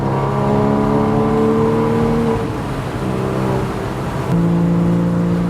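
Porsche 987.2 engine revving after intake and exhaust modifications, a loud, continuous mechanical drone whose pitch holds, dips slightly mid-clip, then steps up sharply near the end as the revs climb.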